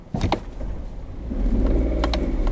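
A car pulls forward uphill in first gear from a stop, its engine note rising steadily and growing louder with a couple of faint clicks early on, no talking.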